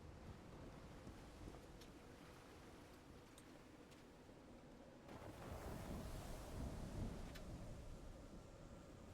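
Stormy weather in the video game Call of the Sea, a steady roar of wind and rushing surf that swells louder about halfway through, with faint crackles over a low rumble and no speech.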